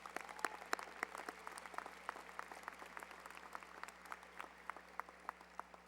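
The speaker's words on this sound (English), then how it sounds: "Would you please give your teachers and your parents a round of applause for their support?" Faint, distant applause from a high school graduation crowd for teachers and parents, scattered individual claps standing out over a steady low hum in a large venue.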